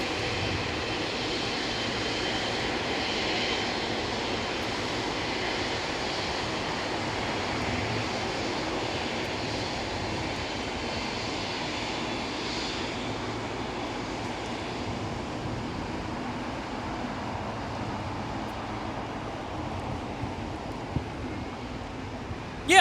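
A jet airplane taxis at LAX airport, a long, steady, distant engine rumble and hiss that holds at an even level for over twenty seconds with no talking.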